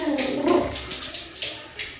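Cold water splashing and gurgling over a person during a bath, a couple of sloshing pours close by with a voice briefly underneath.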